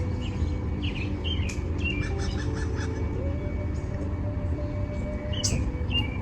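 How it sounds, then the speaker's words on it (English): Birds chirp and tweet intermittently in an early morning garden, light distant calls scattered over a steady low rumble of background noise. "As you can hear the birds singing."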